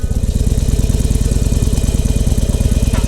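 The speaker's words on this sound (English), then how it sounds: "We're gonna start to roll on the throttle as we're letting that clutch out" A motorcycle engine idles and chugs in a fast, steady loud pulse, close by, as the throttle rolls on and the clutch lets out.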